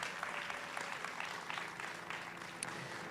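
Crowd applause for Claire at an NFL Super Bowl LV event with the Bucs, steady and fairly distant, a sustained wash of many hands clapping with no talking over it.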